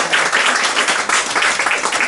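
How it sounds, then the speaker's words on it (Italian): A short burst of audience applause for Gabriele Saro, lively, closely spaced claps from a crowd, fairly loud and brief, with no talk over them. "un grande applauso a Gabriele Saro"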